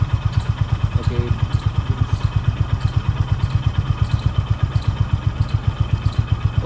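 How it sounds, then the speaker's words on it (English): A Honda Highness 350 motorcycle idles close by with a steady, even thump that continues unchanged throughout. "So I've started the bike."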